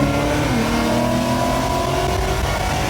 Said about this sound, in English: we got that Mustang GT, that Ford Raptor race